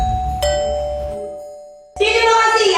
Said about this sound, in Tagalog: Dapat pala hindi ako nagpakabit ang doorbell na yan eh.